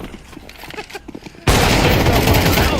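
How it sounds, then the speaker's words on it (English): AK rifle fire in a Counter-Strike match, a loud burst of rapid shots that erupts partway through and continues densely to the end, following a stretch of quieter game sounds. "It is a jumping AK to finish this round as well."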